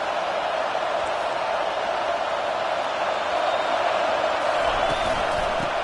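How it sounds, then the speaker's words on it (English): Stadium crowd in the College Football 25 video game roars with a broad, steady wash of cheering, loud and sustained at a constant level without a break. "This crowd bringing an ear-splitting welcome to their visitors."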